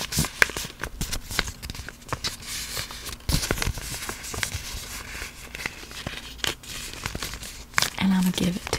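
Paper is folded and crinkled close up in a slow ASMR setting, with intermittent crisp crackles and tearing-like rustles spread unevenly throughout.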